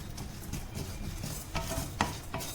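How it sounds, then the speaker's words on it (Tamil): Lentils roasting dry in a pan for spice powder, a steady close rasping rustle with a few louder scraping strokes, alone with no talking. "இப்போ இது வறுபடட்டும்."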